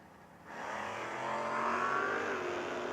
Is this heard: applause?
no